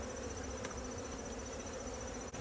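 Dense, steady buzz of honey bees swarming around an opened hive, close and continuous with no talk.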